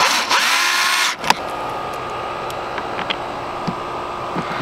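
A power drill whirs in a short burst and then stops, driving screws while a Power Commander V is fitted to a 2019–2021 Kawasaki ZX6R motorcycle; a steady hum follows.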